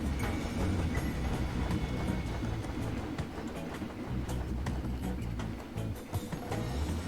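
A train moves under trees in a video game, giving a steady, dense rumble with scattered clicks and clacks throughout, fairly loud and continuous, with no voices.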